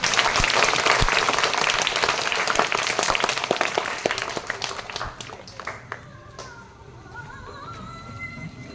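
A school audience at a Shaheed Bhagat Singh birth-anniversary event claps dense, loud applause for a guest invited to the stage; the clapping thins and fades after several seconds as a voice begins.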